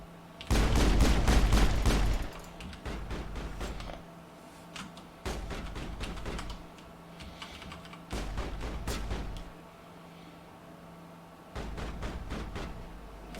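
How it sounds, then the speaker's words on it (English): Gunfire in Mass Effect on PC: several separate bursts of rapid shots, the first loud and heavy, then three further volleys a few seconds apart, with a low hum in the quieter gaps. "Can you guys just stop shooting?"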